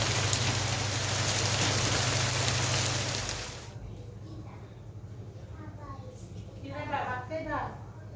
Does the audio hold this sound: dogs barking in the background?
no